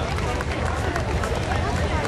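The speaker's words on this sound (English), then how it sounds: "give Larry a round of applause" Crowd applause at the Cole Camp county fair tractor show in 2008, a dense steady clapping roar that fills the whole moment with crowd murmur mixed in.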